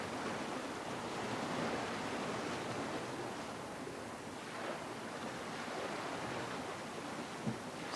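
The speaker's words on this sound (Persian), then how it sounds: "صدای دریاست،" Sea waves wash in a steady, loud roar of broadband surf, with gentle swells and wind noise and no voices.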